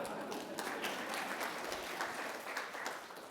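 A round of applause from an audience at an open-day conference session on governance, risk and compliance, a fairly quiet but continuous patter of many hands clapping that holds steady throughout.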